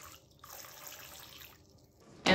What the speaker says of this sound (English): Fill the water dish, water bowl, water holder, water container.